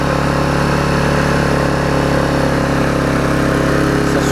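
Vulcan 18-inch lawn mower with a 3.8 hp Tecumseh engine running steadily nearby, a loud, even small-engine drone with no talking.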